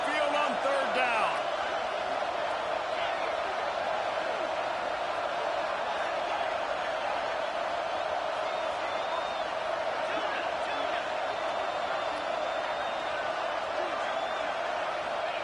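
Steady, dense roar of a stadium crowd in a college football video game, a Crimson Tide home crowd rumbling down onto the field on third down, loud and continuous throughout with occasional bursts of cheering and a voice faintly beneath.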